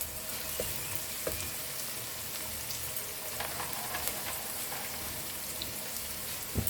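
Chopped green chillies sizzling in hot oil in a pan, a steady dense hiss with scattered small pops throughout, close and continuous with no talk.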